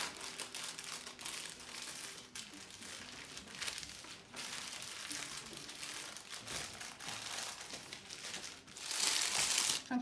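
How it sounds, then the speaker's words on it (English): Parchment paper being rolled up by hand in a kitchen: quiet, irregular crinkling and rustling that continues throughout, swelling into a brighter, louder crackle near the end. "I'm just rolling it. This is parchment paper."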